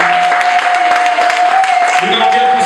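A church congregation applauds for Jesus Christ, with loud, steady clapping from many hands and a sustained tone from the sound system running underneath.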